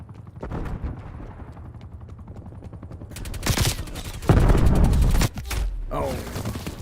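Bursts of AK rifle fire in a video game, with rapid automatic shots that build in the second half into a loud, sustained volley and then a few closing bursts.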